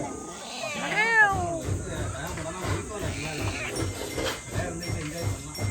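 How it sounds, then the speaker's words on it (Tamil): Cat giving one clear, drawn-out rising and falling meow near the start, then softer low sounds and background noise with a person talking. "எங்கே போனாலும் என்கிட்ட மட்டும் பூனை மட்டும் என்கிட்ட மாட்டிக்குது"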